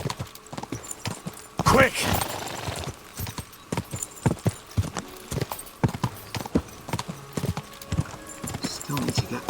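Horse hooves gallop in rapid, steady clip-clop through a Kingdom Come Deliverance 2 medieval countryside ride, with a brief whinny and a voice calling out over the hoofbeats.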